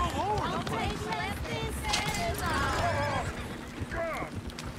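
A horse whinnies several times in the Red Dead Redemption 2 game world, high wavering neighs rising and falling over a continuous background bed, with a voice talking over it.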